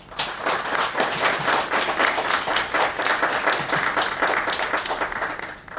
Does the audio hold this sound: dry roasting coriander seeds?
no